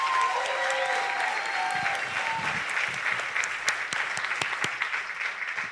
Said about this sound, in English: So a round of applause for everybody.